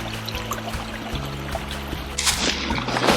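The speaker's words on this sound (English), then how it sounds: "You can hear the little bitty waterfalls going through." Small waterfalls trickling through a quiet creek at the top of an 80-acre property, a soft continuous burble and splash with a low steady hum underneath and a brighter gush of water near the end.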